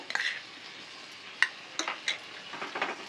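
A spoon stirs coconut laddu mixture after milk cream has been added, making soft scraping and clinking against the pan in irregular bursts at a close, quiet level.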